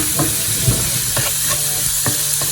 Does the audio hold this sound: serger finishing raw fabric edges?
no